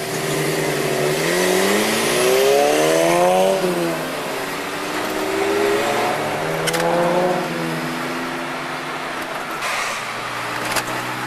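A Gemini car at a 25th-anniversary Gemini cruise in Adelaide revs hard and accelerates, its engine note climbing and sweeping through repeated rising pulls, loud and close, with a couple of sharp clicks near the end.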